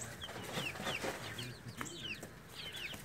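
Silkie chickens cluck and chirp close by in a coop, a busy overlapping run of short clucks and rising peeps.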